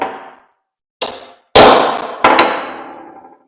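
Four sharp metallic clangs from a hammer striking steel during repair of a cracked loader on a Case 1840 skid steer, close and loud, each ringing out and decaying before the next, with no talking.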